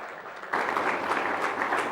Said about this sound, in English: Can we all just clap our hands and wish him?